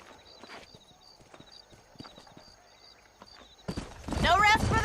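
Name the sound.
horses galloping in Red Dead Redemption video game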